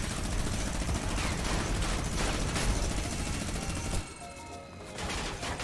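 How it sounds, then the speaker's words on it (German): Enemy gunfire in the Fortnite video game, a dense continuous rattle of shots that cuts off and thins out near the end, with no speech over it. "und die schießen uns schon an hier"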